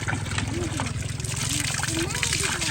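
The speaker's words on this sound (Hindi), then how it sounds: "हैंड पंप पानी भी दे रहा है, मैं आपको दिखा देता हूँ।" Water gushes and splashes from a newly installed hand pump, a continuous close trickle and spatter running beneath the chatter of several voices, including children.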